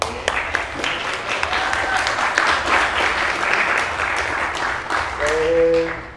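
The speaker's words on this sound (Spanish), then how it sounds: "un aplauso, por favor" Applause from an audience at a talk on computer-aided design, a dense steady wash of clapping lasting several seconds, with faint music and voices underneath.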